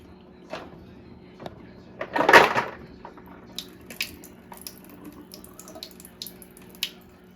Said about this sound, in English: I'm going to open the drain plug and drain the water out.